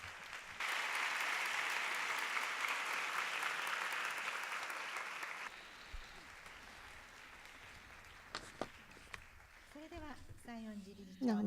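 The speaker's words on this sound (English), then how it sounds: "Let us give a big round of applause to Mr." Audience applause following a flute performance at a peace forum, a dense, steady clapping wash that runs loud for about five seconds and then cuts off. After it, quieter room noise continues with a few scattered clicks and a voice speaking near the end.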